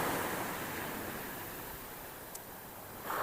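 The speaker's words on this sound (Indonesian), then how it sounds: "Ini gelombang pantai utara, gelombang Pasifik." Small waves wash continuously onto a northern Pacific shore during calm, changeable weather, a soft steady surf roar at moderate distance with gentle wind, no voices.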